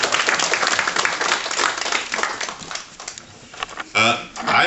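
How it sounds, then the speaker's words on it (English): A crowd at an Indian Arrival Day gathering breaks into a round of applause, dense clapping that swells, tapers off and leaves a voice speaking near the end. "give me a round of applause if that's significant"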